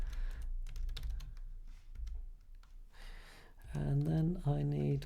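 Rapid, uneven clicking of a computer keyboard at a desk during a programming session, close by, followed by someone speaking.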